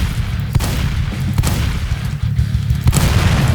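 Explosions and gunfire in a Roblox bank heist game, several sharp booming blasts punctuating a dense rumbling low-end barrage over about three and a half seconds.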